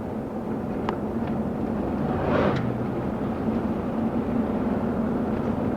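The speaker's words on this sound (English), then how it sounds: "There goes the jet boat." A jet boat on the Snake River drones past as a steady low engine hum, swelling slightly in the middle as it goes by, heard at a distance over a hissy background.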